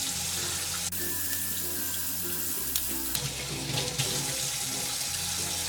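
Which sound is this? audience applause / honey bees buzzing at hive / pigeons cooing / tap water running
tap water running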